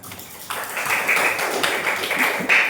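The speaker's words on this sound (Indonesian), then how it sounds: "Oke, tepuk tangan." A classroom of pupils breaks into steady group applause after a brief quiet start, a dense, even patter of many hands clapping that carries on to the end.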